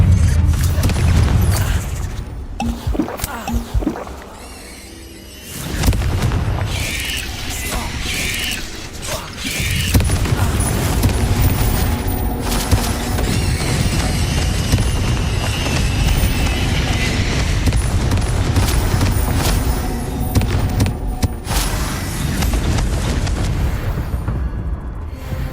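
Confringo explosion spell from the game Hogwarts Legacy, repeated loud booming blasts with rumbling debris and clanking mechanical rattles amid game ambience, with a short quiet dip before the noise resumes.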